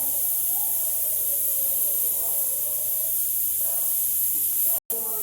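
Tomato and chilli for poori masala sizzle in a hot pan, a steady broadband hiss held close and fairly loud throughout, with a very brief dropout near the end.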